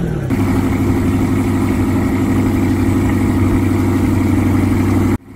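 A Chevrolet C8 Corvette with the Z51 exhaust, its engine holding a steady, loud, deep drone close by, then cutting off abruptly at the end.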